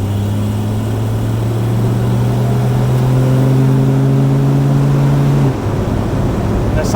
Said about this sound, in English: That sounds like an old UPS truck.